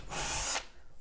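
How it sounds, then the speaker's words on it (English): A power drill pre-drills holes into 3/4 inch plywood, a loud steady whine lasting about half a second before cutting off, with the drill spinning down and faint workshop noise after. "I'm just going to pre-drill the holes into the"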